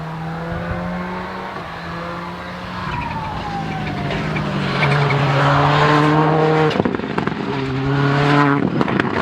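A Chevette rally car races on tarmac at the Castle Combe rally day, its engine revving hard and climbing through the gears, with tyres squealing and the roar staying loud and close throughout.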